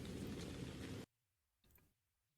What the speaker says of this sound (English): we can turn off the rain because there's no rain for this game